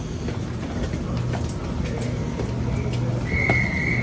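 A train arriving at a platform at Sydney Central Station, with a low rumble, clanks and a brief high squeal or whistle near the end, moderately distant.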